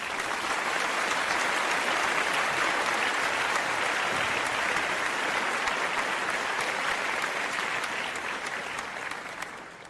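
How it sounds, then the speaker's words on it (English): Loud, sustained applause from a large crowd, thick and continuous throughout and tapering slightly at the end, with no speech over it. "One more round of applause."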